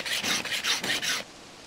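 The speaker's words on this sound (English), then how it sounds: "large nails, and that they hammer, file, and sharpen into the arrowheads" A file rasps back and forth across a metal arrowhead made from a large nail in about six quick, rhythmic strokes, close up, then stops.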